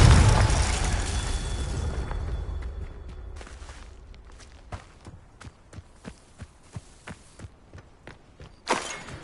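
A Confringo fire spell goes off in the game Hogwarts Legacy as a loud, close, low-heavy blast that rumbles and fades over a few seconds, followed by a steady run of soft thuds like footsteps and one sharper final hit.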